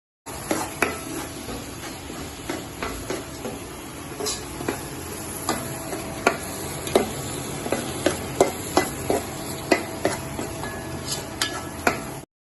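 Ground roasted masala paste frying in a pan with sautéed onion, garlic, green chilli, curry leaves and ginger for mushroom curry, a steady close sizzle broken by repeated scraping stirs of a spoon against the pan, with no talking.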